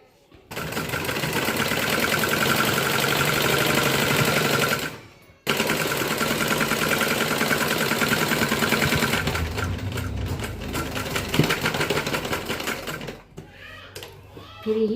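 A sewing machine stitches an embroidered blouse in two long, rapid runs separated by a brief stop, its fast rattling needle loud and close, with a short pause near the end.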